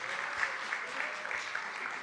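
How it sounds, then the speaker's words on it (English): Applause from a congregation at a Friday-evening Shabbat service, soft and distant, a steady patter of clapping heard from afar. "Wow, lots of applause tonight."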